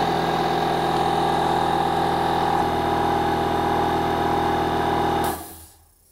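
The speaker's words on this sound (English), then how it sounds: "One minute 21 seconds actually is spot on for this size of air compressor running off a battery." Metabo HPT 36V MultiVolt 2-gallon cordless air compressor, model EC36DAQ, running on battery power as it recovers pressure: a steady close mechanical hum and drone that stops abruptly near the end, leaving near silence.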